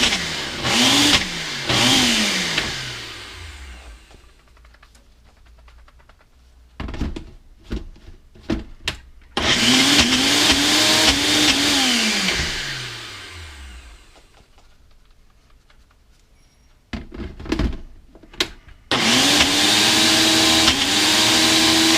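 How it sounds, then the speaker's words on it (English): A Ninja blender pulses walnut hummus in loud bursts of whirring motor, several short pulses then longer runs separated by pauses, close and alone without talk. "We'll get the Ninja going here. First we'll pulse a few times."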